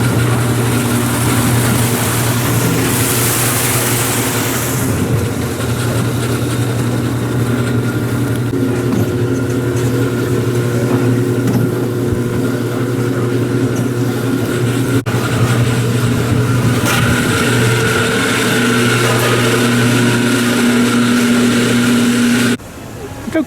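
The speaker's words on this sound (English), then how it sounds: "making Molly drive the antique cars. This is a small antique car." Steady engine drone of a small antique car ride at Gilroy Gardens amusement park, a continuous humming motor heard close throughout with a faint tonal whine, running unbroken until it cuts off near the end.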